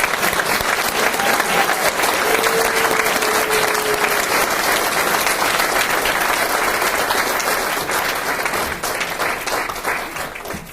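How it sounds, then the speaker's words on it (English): A large crowd applauds at a fire academy graduation ceremony, producing dense, loud, sustained clapping that runs for about eleven seconds and eases slightly toward the end. "One more round of applause for these guys."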